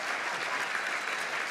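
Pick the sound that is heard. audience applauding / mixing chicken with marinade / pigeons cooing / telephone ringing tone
audience applauding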